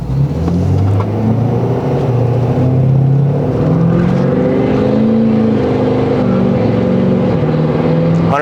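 A tuned Ford 6.7L Powerstroke diesel pickup pulls hard at full throttle from a standstill toward 80 mph, its loud, steady engine drone climbing in pitch through gear changes and sustained close-up for the whole stretch.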